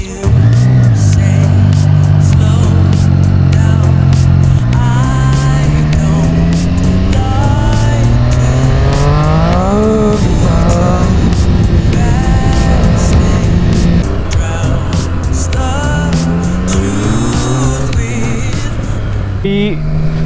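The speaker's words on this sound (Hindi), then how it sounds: "और आपके पास लाउड बाइक है।" A Triumph Street Triple motorcycle rides along an open road out of Pune, its loud engine droning close under wind rush as the revs climb and fall in repeated surges.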